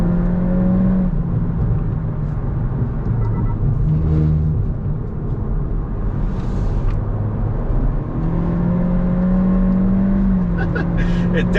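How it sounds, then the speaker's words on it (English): A Hondata-tuned 2022 Honda Civic accelerates on a canyon run, its engine a continuous droning rumble with rising and falling tones as it pulls through gears, heard from inside the cabin. "Taking it on a canyon run, do a little bit of spirited driving."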